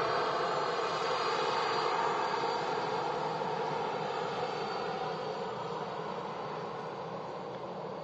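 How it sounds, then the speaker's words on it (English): A Pegasus Airbus A321neo taxis at Manchester Airport, a steady broadband jet engine roar at moderate distance that fades slightly over eight seconds, with no voices. "And a Pegasus A321neo on the taxi."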